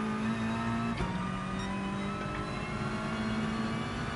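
VW car engine in the racing video game Gran Turismo Sport, a steady droning hum with a brief pitch dip as the revs shift, running continuously and fairly loud.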